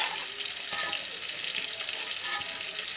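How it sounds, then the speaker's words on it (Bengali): Chicken pieces sizzle steadily in a hot pan, a continuous close frying hiss with faint stirring clinks. "আর এদিকে তো এই যে মাংসগুলো ভাজা হচ্ছে"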